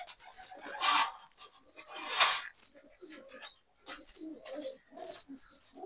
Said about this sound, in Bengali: আপনাদেরকে আমার আরো দু একটা কবুতর দেখাই